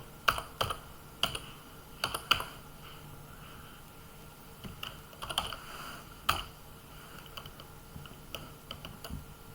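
Keys clatter on a computer keyboard as Python code is typed, a steady run of light clicks with a few sharper, louder taps at irregular intervals, close and alone with no voices.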